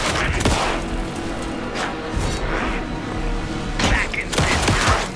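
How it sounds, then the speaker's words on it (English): Gunfire in the video game Alan Wake 2 comes as loud, close bursts of shots and thuds over a rumbling background, with a tense exchange of game dialogue running alongside. "Anderson, pin him down with gunfire for me to get the light on him"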